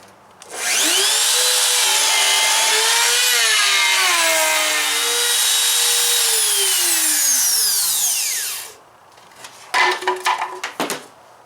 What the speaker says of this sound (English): So let's get that routered.